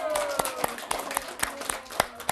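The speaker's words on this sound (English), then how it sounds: "And then we just clap." Children at a library storytime clap their hands in a light, uneven run of roughly a dozen sharp claps, some likely patted on bellies, near and moderately soft with faint background murmur.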